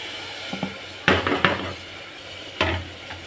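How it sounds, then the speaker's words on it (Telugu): Mutton pieces dropped into a pan for gongura mutton curry, giving a few soft, quiet clattering thumps spaced across a few seconds, with no talking. "ఇప్పుడు మటన్ వేసుకుందాం"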